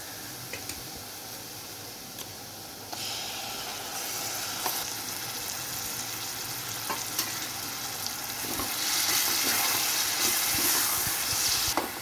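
Mashed eggplant for baingan bharta sizzles steadily in a hot pan while a spoon stirs it, and the frying hiss swells louder partway through, with small scraping ticks and no talking.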